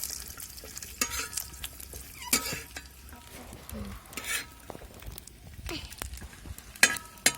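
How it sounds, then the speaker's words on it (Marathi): Coconut roasts in a little oil in a pan, with repeated stirring scrapes and clatters over a faint, soft sizzle. "सुरुवातीला मी खोबरं भाजून घेणार आहे खोबरं चांगलं आपल्याला असं भाजून घ्यायचं लालसर"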